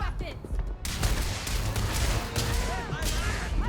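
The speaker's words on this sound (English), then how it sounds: "I just accidentally started shooting Neon security." Gunfire in Starfield aimed at Neon security, a rapid burst of shots with sharp reports, loud and close, with a voice talking over the shooting.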